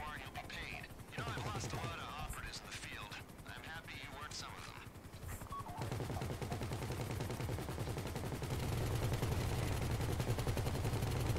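Rapid automatic gunfire rattles in GTA 5, bursts and sustained volleys over a helicopter-like drone, with someone talking over the shooting at first.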